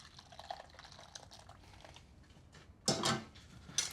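Hot water poured into a dashi and light soy stock, a faint trickle that swells into a brief louder splashing pour near the end.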